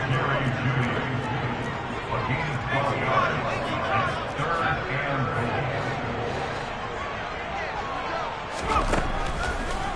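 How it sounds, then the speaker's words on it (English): A football stadium crowd rumbles with a dense, continuous roar of chatter and cheering for the full stretch, while a commentator's voice talks over it. "You can already start to hear this crowd."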